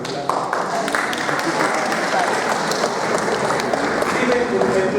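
Loud applause from an audience at a lecture, a continuous dense clatter of many hands with some voices mixed underneath.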